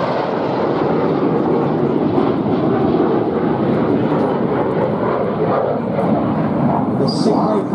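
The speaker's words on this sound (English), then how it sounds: "these four jets are closing at 800 miles an hour" Red Arrows jets roar past at an air show in a loud, broad, continuous rush of engine noise that holds steady throughout.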